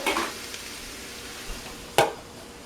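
Breakfast sausages searing in a pan with a soft continuous sizzle, broken by two short scraping stirs at the start and near the end, close and fairly quiet.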